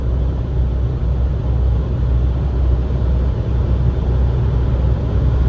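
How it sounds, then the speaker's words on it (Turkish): Steady road and tyre rumble inside a small 2013 VW Up with the 1.0 MPI 60 hp engine while driving: a constant, even low drone with no talk over it. "yol sesini içeri alıyor"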